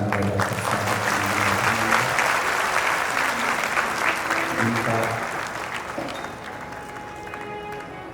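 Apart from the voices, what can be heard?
audience applauding loudly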